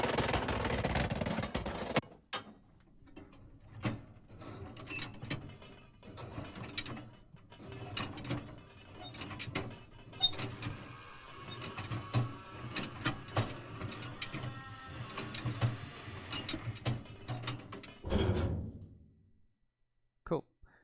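Khonsu gate mechanism in a video game, a long run of ratcheting, clicking and grinding gear sounds with scattered clanks before a final louder rumble, moderately loud and continuous for about twenty seconds.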